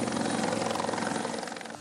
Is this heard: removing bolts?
no